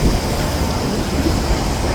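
A train rumbles loud and close while switching tracks, with a steady dense roar of wheels on rail and no clear rhythm.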